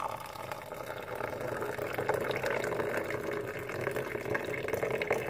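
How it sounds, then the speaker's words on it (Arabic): Hot water pours steadily into a glass over sugar and Nescafé, a continuous close splashing and filling that holds at an even level without pauses. "غادي نجيبوا الماء سخون"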